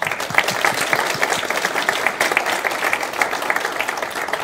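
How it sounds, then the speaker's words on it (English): Dense, steady applause from an audience at the closing of a conference, loud and continuous with no voices over it. "And then give you a big round of applause."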